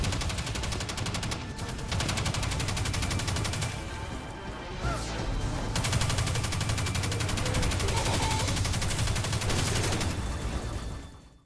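Rapid submachine gun fire and blasts from the Warlock's exotic submachine gun with Arc Conductor in the Destiny 2 beta, a dense, continuous barrage of shots and impacts lasting throughout, with a brief lull midway.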